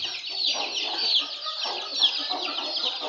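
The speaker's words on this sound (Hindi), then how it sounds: "ये जो चूजा है ना हमारा, ये बीमार लग रहा है यार" A small, sick chick peeps in soft, high, continuous chirps close by, fairly faint and with no talking over it.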